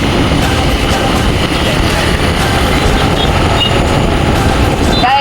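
Dense road traffic rumbles continuously nearby, with engines droning, vehicles passing, and a faint horn toward the end.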